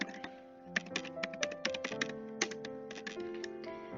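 A command typed on a computer keyboard: quick, irregular clicks and taps of keys close by, continuous for a few seconds with no talk.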